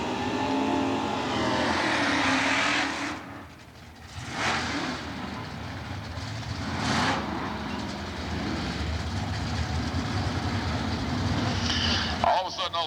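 NHRA Stock Eliminator drag race cars run at the 1992 Atlanta divisional event, a loud sustained roar of engines that rises and dips across the run, with a brief lull partway through.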